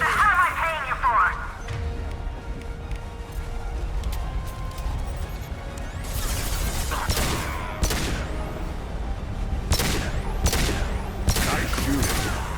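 Gunfire in the sci-fi shooter game Mass Effect 2: several sharp bursts of shots crack out in the second half, loud against a busy backdrop of combat noise and voices talking.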